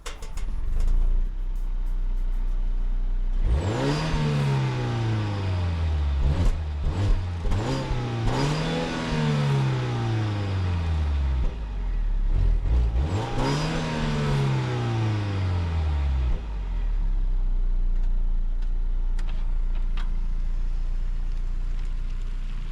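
A 2019 Volvo V90 T8 Polestar with a four-cylinder engine, stationary, is revved twice: each time the pitch climbs sharply, holds, then falls back to a steady idle between the bursts, loud and close with no talk.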